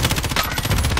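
Rapid full-auto fire from an M13 rifle in the game Warzone Pacific, a dense, loud, continuous burst of shots with no pauses and no talking.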